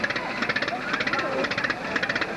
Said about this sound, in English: You can see how easily Sam spun that engine over and got it started.